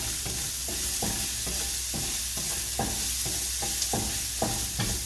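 Garlic frying in hot oil for Filipino beef mechado, a continuous dense sizzle with regular rhythmic stirring scrapes about every half second, close and steady throughout, no voices.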